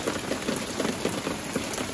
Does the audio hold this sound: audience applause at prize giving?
no